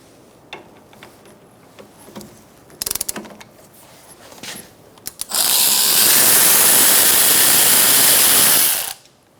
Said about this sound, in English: Now we're going to take out these two bolts using a 14mm socket.